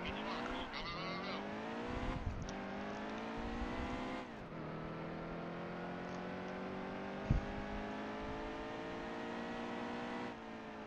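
A race car engine at Bristol in the video game NASCAR Heat 2 drones steadily and loudly, its pitch climbing through long pulls and dropping sharply at a few gear shifts or lifts, with a short bump near the end.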